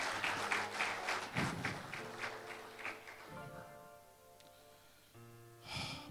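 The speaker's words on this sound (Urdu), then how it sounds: "زوردار تالیاں خداوند کے لیے." A church congregation claps in a rhythmic burst over soft keyboard music. The clapping fades after a few seconds and swells briefly again at the end.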